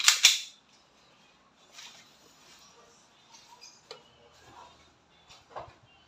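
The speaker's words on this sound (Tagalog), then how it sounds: "Okay, Sir Ronan, sir, chronograph test tayo." A sharp snap of a WE 2011 Hi-Capa T-REX semi-automatic airsoft pistol firing over a chronograph comes close and loud at the start, followed by quieter handling clicks and rustles.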